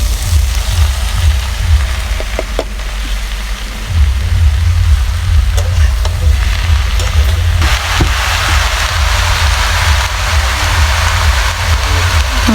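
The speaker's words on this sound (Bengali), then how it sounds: "এখন আমি এখানে বসিয়ে দিলাম ভাজি। আজকে আমি ধুন্দুল ভাজি করব।" Sponge gourd (dhundul) bhaji sizzling in a pan in a home kitchen, a steady close hiss with a low rumble underneath, running unbroken with a few faint clinks.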